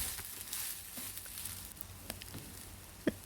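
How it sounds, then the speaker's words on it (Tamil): Chicken fried rice frying in a pan on high flame, a low steady sizzle with a few light scrapes and one sharp clink near the end. "கொஞ்சம் ஹை ஃப்ளேமில் வச்சு மிக்ஸ் பண்ணுறப்போ சாதம் வந்து நல்லா கொஞ்சம் ஃப்ரை ஆகும்"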